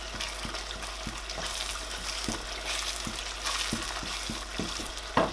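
Stirring curry, thyme and mixed seasoning into tomato frying on the stove for Nigerian party jollof rice, a soft continuous sizzle broken by scattered light scraping knocks, no voices.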